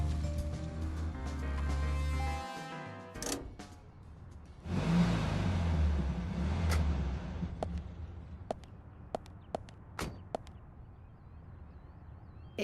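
Car driving in the Deadly Premonition video game: a steady engine drone that cuts off, then a whooshing swell of road and engine noise with scattered clicks, moderately quiet and without talk.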